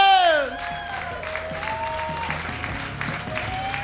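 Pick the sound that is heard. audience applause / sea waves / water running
audience applause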